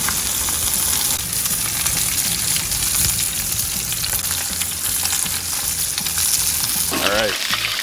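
Steaks searing in a pan with clarified butter and rosemary sprigs give a loud, steady, close sizzle and crackle that runs unbroken, ending in a short scrape or clatter at the close.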